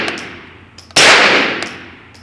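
A 9mm pistol-caliber carbine fires a single loud, sharp shot at close range that rings and decays outdoors, preceded by a few faint clicks.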